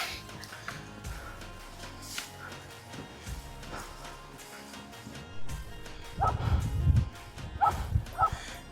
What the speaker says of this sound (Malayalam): ഇവിടെ കുറേ പട്ടികളെല്ലാം കൂടെ വന്ന്